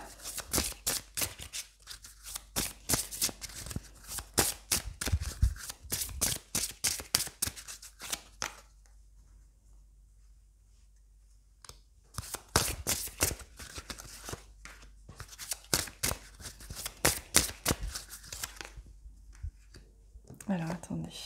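Tarot cards shuffled by hand make close, rapid papery riffling and flicking in busy bursts, with a quiet pause midway before the shuffling resumes.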